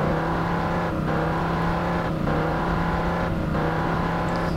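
A car engine drones loudly and steadily in Fortnite as the vehicle flies through the air, a constant low whirring hum with a few slight dips in pitch.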